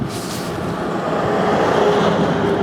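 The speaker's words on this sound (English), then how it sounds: "Waiting for that truck to drive by." A passing vehicle gives a steady, broad rumble that holds at a similar loudness throughout, heard outdoors with no talking.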